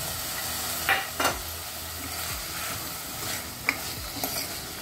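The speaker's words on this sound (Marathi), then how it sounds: "त्याच्यात आपण हा राजमा घालून परतून घेऊया।" Rajma kidney beans and masala sauté in a pot with tomato cooked down in oil, a constant sizzle with a few scraping stirs of a spoon against the metal.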